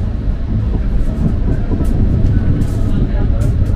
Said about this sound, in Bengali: ট্রেন আস্তে আস্তে উপরে উঠছে